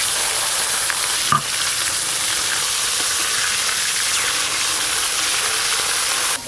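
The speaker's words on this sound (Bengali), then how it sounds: "তা মাছ ভাজা হচ্ছে" Small pond fish frying in a pan, a loud, dense, continuous sizzle and hiss up close, with one brief clatter partway through and no talking.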